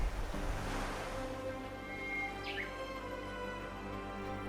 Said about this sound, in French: Elle aligna les voiles et elle s'éloigna sur les vagues